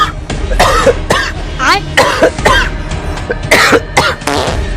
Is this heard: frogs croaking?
no